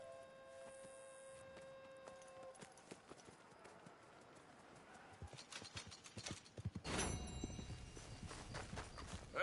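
Hooves clip-clop as a horse sets off in the Red Dead Redemption video game, faint and sparse at first, then building into a louder, faster run of hoof beats toward the end.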